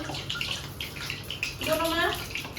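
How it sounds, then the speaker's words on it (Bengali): Tap water running steadily into a basin, a continuous splashing rush that swells partway through, with voices talking over it. "জল পড়ছে।"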